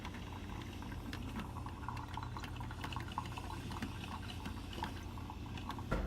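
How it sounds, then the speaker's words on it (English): Coffee brewing in a machine, a steady low bubbling and gurgle of hot water with faint drips and a small clunk near the end, quiet and continuous with no talking. "While I wait for my coffee to brew"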